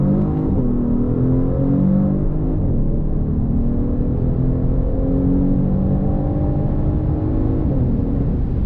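A 2022 Genesis G70 with the 3.3-liter twin-turbo V6 accelerates hard, its steady, loud harmonic engine note rising in pitch as it pulls, heard from inside the car with no talking.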